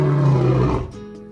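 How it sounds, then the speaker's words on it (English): A lion's roar from a zoo-animal learning app, one loud, deep, rough bellow lasting under a second, then fading into a quieter rumbling tail, with no voices. "Lion."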